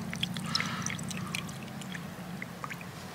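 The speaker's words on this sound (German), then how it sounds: "Dann füllen wir den Brennspiritus auf das Gel im Kocher." Denatured alcohol pours steadily onto gel inside a Swiss M71 emergency cooker, a soft continuous liquid trickle with small splashy drips, close and fairly quiet.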